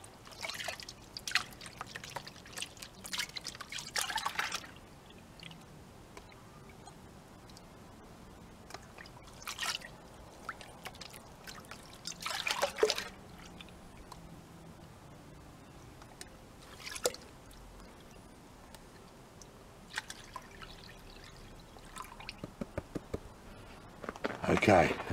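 Crushed rock being swirled and panned in water for gold, with repeated splashing, dripping and sloshing bursts at intervals, heard close and under occasional talking.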